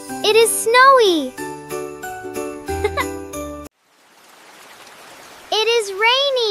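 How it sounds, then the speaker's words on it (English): Rain falls in a soft, steady hiss for about two seconds, alone between stretches of children's voices and light chiming music. "It is rainy."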